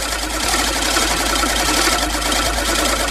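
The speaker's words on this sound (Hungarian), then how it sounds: "Traktor lesz az. De elég gyeng az alapjárata." A tractor engine idles weakly, giving a loud, steady, rapid mechanical chatter that holds without a break for a few seconds, with no voices.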